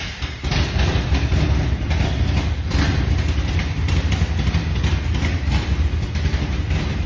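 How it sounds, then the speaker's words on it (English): A big block V8 in a 1972 C10 truck idles and runs loud on open headers with a rusted-out exhaust, a dense, rumbling, steady roar that fills the whole clip with no talking. "That big block just sounds wicked. Obviously that is open headers because the exhaust is all rusted out."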